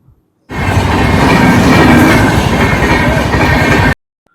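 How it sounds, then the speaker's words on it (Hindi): Train passing a closed railway crossing at a station, a loud, close, steady rumble with rattling wheels that starts abruptly and runs for several seconds before cutting off. "स्टेशन पर देखे तो फाटक बंद हो रही थी, रेल जाने लग रही थी।"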